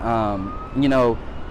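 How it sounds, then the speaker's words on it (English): A wailing siren rises and falls twice in a short burst, loud and fairly close, its pitch sweeping through clear harmonic tones. "Sorry for the sirens"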